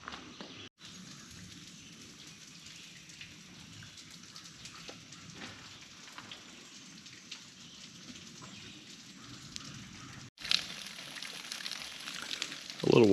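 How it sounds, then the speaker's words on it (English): A small waterfall near rocky bluffs on a cold, rainy woodland hike makes a steady, moderate hiss of falling water that runs unbroken except for two brief dropouts. "A little waterfall is better than no waterfall at all."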